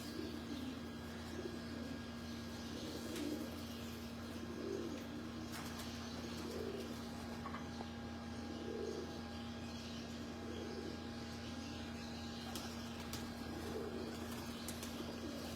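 Pigeons coo softly on a Lahore rooftop in a slow repeating rhythm, with a few faint chirps over a steady low hum.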